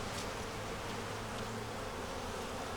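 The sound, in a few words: honey bees buzzing on hive frames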